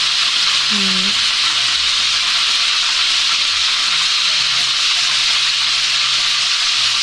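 Cooking oil heating in a pan before frying chicken, a loud continuous hiss and sizzle held evenly throughout, close by and without pause.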